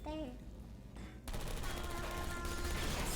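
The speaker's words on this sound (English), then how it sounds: "The turrets are shooting the servers." Automated turrets rattle off rapid gunfire in Portal Stories: Mel, a dense continuous burst that starts abruptly partway in and carries on loudly to the end, with some game sound underneath.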